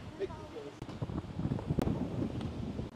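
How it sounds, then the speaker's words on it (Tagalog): Strong wind buffets the microphone high on the open 91st floor of a Taipei tower, a steady loud rumbling roar with gusts, while people talk over it throughout. "Grabe hangin."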